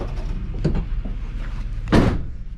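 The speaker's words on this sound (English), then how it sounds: "Well, hopefully the door closes." A vehicle door swings shut with one firm thud near the end, preceded by faint rattling and a lighter knock over a low steady rumble, heard close with no talk.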